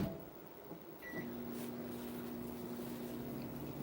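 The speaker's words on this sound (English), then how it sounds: "we're just going to throw them in the microwave for about 30 seconds" A microwave oven heating plastic for blast effects: a door click and beep, then a steady low hum with a faint whirring drone running continuously, close and quiet.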